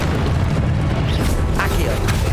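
A deep, rumbling Confringo blasting-spell explosion in Hogwarts Legacy, loud and sustained with a booming low end and some crackle, mixed with game effects.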